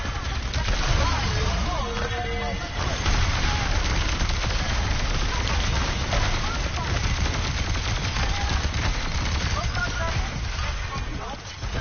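Junkrat firing in the Overwatch 2 video game, with dense, continuous explosive gunfire and in-game combat noise throughout and voices talking over it.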